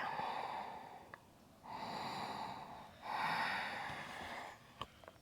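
Several long, hissing ocean breaths during yoga, each inhale or exhale several seconds long, close and soft, with brief pauses between them.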